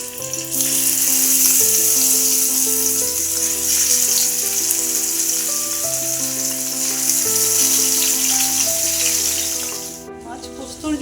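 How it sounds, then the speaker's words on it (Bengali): Katla fish pieces rubbed with salt and turmeric fry in hot oil in a pan, giving a loud, continuous close sizzle with steady music playing underneath. "মাছটা এবার ভাজার জন্য দিয়ে দেবো প্যানে।"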